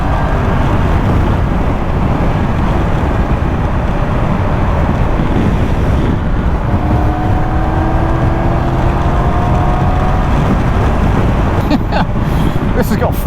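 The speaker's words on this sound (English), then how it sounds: "It's got that Triumph inline triple engine." A Triumph 1200 GT Pro motorcycle with an inline triple engine under way on the road, a steady loud engine drone mixed with heavy wind rush, faint pitch sweeps as the revs shift.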